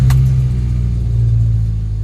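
A Hyundai Accent with a misfire fault (P0300) runs with a check-engine light on. It makes a loud, close, steady low engine drone with a faint uneven pulse and no pauses.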